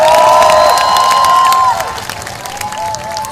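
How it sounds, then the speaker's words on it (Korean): A crowd at a 2017 election campaign rally in Uijeongbu, South Korea, cheers and applauds loudly as a campaign chair is introduced, with whistles and shouts rising over steady clapping that eases slightly partway through. "그 어느 때보다도 뜨거운 응원의 박수 보내주십시오"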